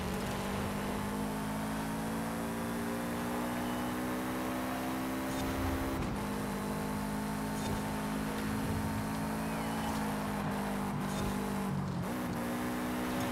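A drift car from Forza Horizon 5 holds a steady, droning engine note at constant load, with small dips in pitch as it slides through corners, fairly quiet and with no talk.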